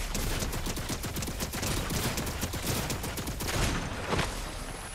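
Rapid automatic turret fire in a video game hammers out in dense, fast bursts of sharp, loud shots that overlap into a near-continuous barrage throughout.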